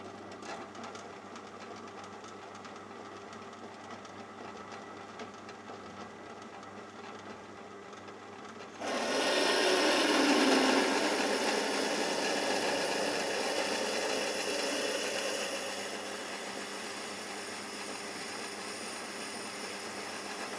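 A lathe drills a hole about 10mm deep via the tailstock quill while repairing a clamp: a quiet steady motor hum, then a louder grinding whir of cutting that eases partway and continues more softly.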